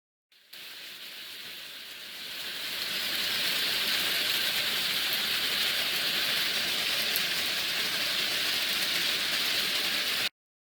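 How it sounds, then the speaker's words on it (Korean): Heavy rain pours steadily, a dense hissing wash that swells in over the first few seconds and then holds loud and even until it stops. "바로 주룩주룩주룩주룩 비가 내리는 소리였습니다."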